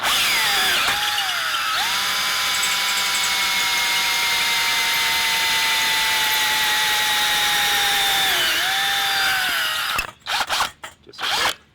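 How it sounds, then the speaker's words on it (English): A power drill bores through EMT conduit, backed by a wood block, in a steady, loud high whine that holds for about ten seconds and then breaks into short stuttering bursts as the bit finishes the hole. "I'm transfer drilling this hole."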